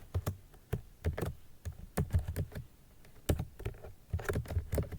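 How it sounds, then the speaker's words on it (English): Manual typing on a computer keyboard: close, irregular bursts of keystrokes with short pauses between them, no talking. "rest of the thing I will type manually."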